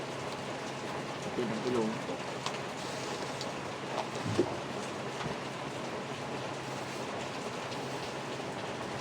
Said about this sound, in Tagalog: Kainis ang ulan.